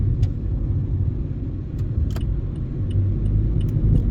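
A car turning around on a road, with a steady close engine rumble heard from inside and a few faint light clicks and jingles over it.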